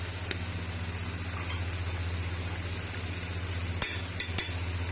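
Beef sizzles steadily in a pan as a spoonful of ginger garlic paste goes in, a low constant fry with a steady hum underneath and a few sharp clicks of a spoon near the end.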